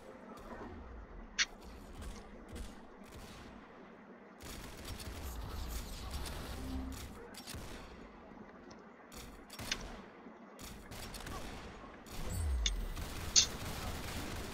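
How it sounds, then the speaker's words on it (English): Pistol shots ring out in the Roblox shooter Arsenal, a few sharp isolated cracks spaced several seconds apart over the game's background noise and clicks, with a voice talking in places. "Oh, I have like the one shot pistol,"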